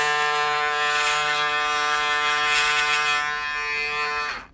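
An electric shaver runs with a steady, close, bright buzz for several seconds, then cuts off abruptly at the end.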